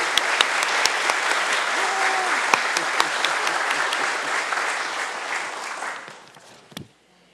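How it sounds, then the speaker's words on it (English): Sustained audience applause for PTA volunteers at a committee meeting, steady crisp clapping for about six seconds before tapering off to silence. "please stand and let us applaud you for your service to the PTA"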